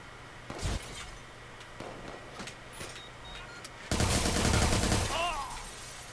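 Bursts of gunfire in the video game Watch Dogs 2: a few scattered shots early on, then a loud sustained fusillade near the end, with some talk in the background.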